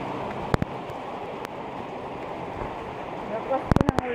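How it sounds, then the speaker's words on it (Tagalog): Heavy morning rain pours down in a constant, dense hiss that sits close and loud. A few sharp knocks and drips break through near the end. "Malakas yung ulan."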